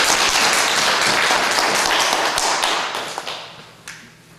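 Applause from a church congregation, a dense wash of many hands clapping at once, loud at first and then thinning and fading toward the end, with a few last scattered claps.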